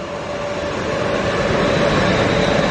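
A train pulls into a station in North London, a steady loud rumble of wheels and carriage noise with a faint high whine running throughout.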